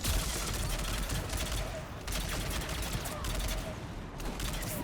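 Sustained gunfire killing a Krogan in Mass Effect. Dense, continuous shooting runs through the whole stretch at a steady high level, with no spoken voices.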